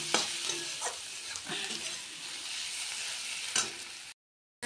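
Onion, tomato and peas sauté in oil with ground ginger, cumin, chilli and turmeric, a continuous sizzle with a few spoon scrapes and taps, close by, cutting to silence near the end.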